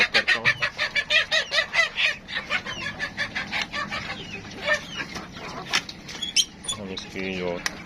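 Chickens in a coop cluck steadily while feeding, a dense, rhythmic chorus of close, loud clucks and squawks that continues throughout, with someone talking over them.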